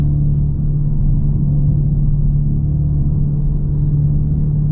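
The synthetic engine sound of a 2025 Dodge Charger Daytona Scat Pack electric car is a loud, steady low hum and drone, heard close and continuous from start to finish, with no talking.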